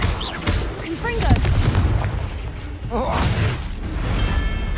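Confringo spell blast in the video game Hogwarts Legacy, a cluster of booming impacts and mechanical crashes amid game effects, with a voice speaking over the action.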